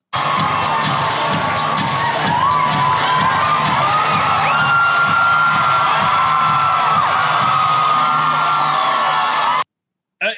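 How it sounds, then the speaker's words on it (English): A crowd cheers, whoops and shouts continuously at a loud, steady level for about nine seconds, then cuts off abruptly. "Round of applause for her universe model, everyone."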